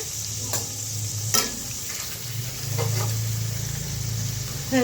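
Spice paste for a hilsa and eggplant curry sizzles in a pan, with a soft continuous fry, sharp scraping stirs and a low steady hum underneath, and no voices.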